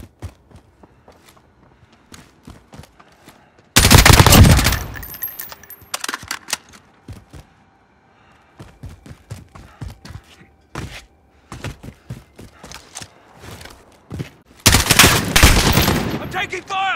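Gunfire in the video game Call of Duty: Modern Warfare (2019), a free-for-all match on the Azhir Cave map: two loud, dense bursts of rapid shots stand out between quieter footsteps and gear clatter.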